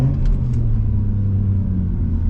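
A Mazda RX-8 with a rotary engine drives along, giving a steady, loud, low rumbling drone heard from inside the car.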